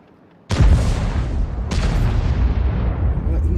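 Two heavy cannon blasts from tanks in a World of Tanks-style battle game, a sharp boom at the start and a second about a second later, each followed by a long rumbling tail that keeps the scene loud.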